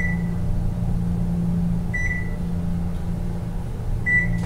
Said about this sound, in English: It has a microwave beep on it, but the better version that's not so annoying.